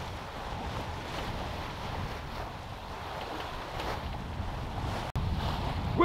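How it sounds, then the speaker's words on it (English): Steady wind rushes past a sailboat under way along the rocky French coast, a broad continuous roar with a brief dropout near the end; no voices. "The wind filled in again and now we're flying."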